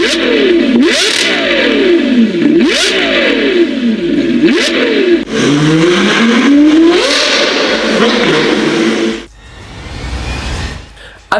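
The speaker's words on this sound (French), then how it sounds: "Avec son V12 de 6 litres 5, elle atteint des niveaux sonores époustouflants" A Novitec N-Largo Ferrari 812 with a 6.5-litre V12 revs hard and loud, repeated rising and falling engine sweeps in quick succession before the roar cuts off into quieter rumble.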